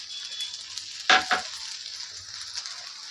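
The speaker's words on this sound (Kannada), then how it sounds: "ಇವಾಗಲೇ ಹಾಕ್ತಾಯಿದ್ದೀನಿ ನಾನು ಕೊತ್ತಂಬರಿ ಸೊಪ್ಪನ್ನ." Fresh coriander leaves stirred into avalakki frying in a pan, a steady low sizzle with a couple of brief scraping stir strokes, close and alone without talk.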